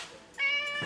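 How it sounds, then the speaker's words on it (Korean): A cat shut in a small cage lets out one clear, loud meow close up, rising and then fading after a brief pause. "비싼 고양이구만"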